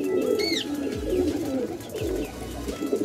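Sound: pigeons cooing

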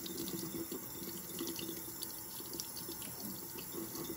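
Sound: running water rinsing etching cream off glass

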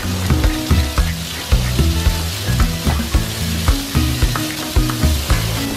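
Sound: shrimp frying in olive oil in a wok

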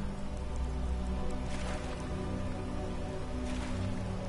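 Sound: rain falling in the video game Skyrim

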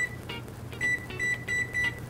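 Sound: kitchen timer beeping

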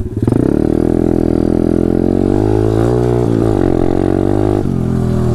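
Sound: pit bike engine riding through terrain

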